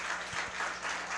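Church congregation applauding, a dense, steady wash of clapping from many hands filling a room, brief and continuous.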